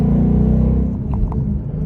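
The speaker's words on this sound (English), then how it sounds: "Rookie driver missed 3rd gear." A 1966 car's engine revs loudly nearby after a missed shift into third gear, a heavy low rumbling drone that eases slightly then holds, with faint thumps, no talking.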